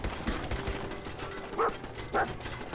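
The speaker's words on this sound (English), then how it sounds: "Yeah, you bark at them." A dog in the video game Fallout 4 barks and growls during a fight with raiders, a few short yips and two sharper barks near the end over low game noise.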